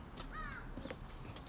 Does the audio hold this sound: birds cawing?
yes